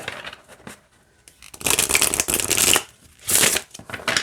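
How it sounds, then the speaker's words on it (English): A deck of fantasy oracle cards is shuffled by hand, with two bursts of riffling and flapping card noise separated by brief pauses, close up and alone. "I was worried I was going to have an awkward time trying to shuffle it for you guys"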